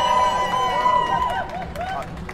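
A coffee house session audience cheers and whoops for a live performance, crowd voices rising briefly with scattered clapping, mixed with chatter and a tonal whistle.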